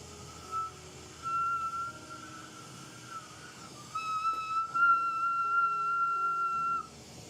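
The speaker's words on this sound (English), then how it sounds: "Got a little whistle out of it." Hot glass whistles during glassblowing of Christmas ornaments, a thin sustained tone that rises in level partway through and holds steadily for several seconds before cutting off, over a soft workshop background.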